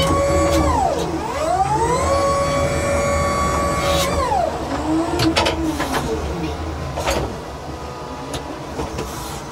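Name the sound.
electric forklift driving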